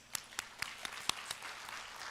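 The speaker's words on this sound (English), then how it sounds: "I invite everyone to join in giving them a heartfelt round of" A small number of separate claps ring out at a law graduate school investiture ceremony, about seven sharp hand claps spaced unevenly over two seconds, fairly faint against a quiet room.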